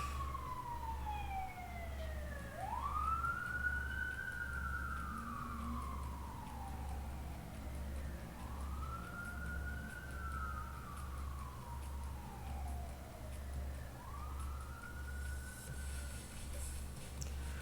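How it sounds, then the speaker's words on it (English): An ambulance or fire truck siren wails at a distance in repeated rising and falling sweeps over a steady low engine or traffic rumble, with no talk. "I don't think that's the police. I think that's an ambulance or fire truck."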